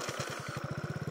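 A Kymco Agility 50 scooter engine with a new cylinder, spun over with a power drill, putters close by, its pulsing beat firing faster and more evenly as it catches and runs.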